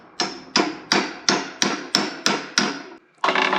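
An aluminum drift is hammered to drive a piston out of an old engine cylinder, eight sharp metallic blows in an even rhythm, close and loud, with a brief pause before the last strike.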